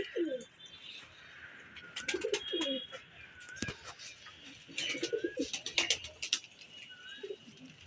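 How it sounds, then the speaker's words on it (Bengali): A pigeon, long single and now calling eagerly, coos in repeated bursts of throaty calls, close and clear, with brief rustles and sharp taps between phrases. "অনেকদিন সিঙ্গেল থাকার পরে পায়রা কি হারে ডাকে দেখো"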